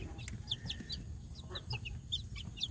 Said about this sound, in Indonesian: Jadi alhamdulillah ini anak ayam kampung saya ini, sedulur, mau makan